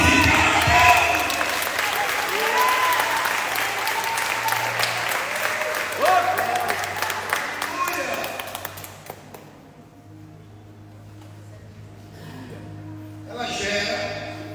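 A church congregation applauds loudly at a celebration service, dense clapping and cheering for about nine seconds before dropping away, leaving quieter room sound with a brief swell near the end.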